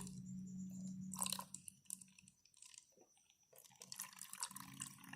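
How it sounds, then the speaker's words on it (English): Water poured through a container with a loosely screwed-on cap, in a home decomposers activity for children, giving soft trickling and dripping sounds with scattered wet taps over a low steady hum. "When I pour this water through, what do you think is going to happen?"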